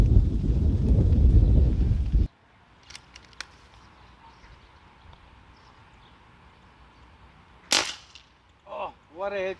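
A single sharp crack comes from a regulated Nova Vista Razer D-02W .22 PCP air rifle, heard outdoors after a loud opening stretch and a quiet pause. Brief faint sounds follow near the end.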